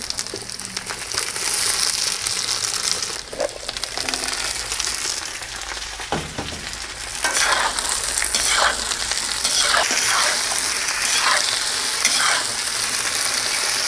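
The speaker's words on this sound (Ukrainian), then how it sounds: "Смажимо нашу картоплю до готовності, час від часу помішуючи." Potatoes sizzle steadily in hot sunflower oil over maximum heat while a utensil scrapes and stirs them now and then, with clattering bursts of movement over the frying hiss.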